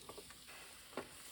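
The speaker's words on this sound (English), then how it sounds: "All right, it's still sizzling." Bacon cooking inside a Vsadey sandwich waffle maker, a faint soft sizzle with a few quiet crackles and pops, one slightly louder spit near the end, brief and alone with no talking.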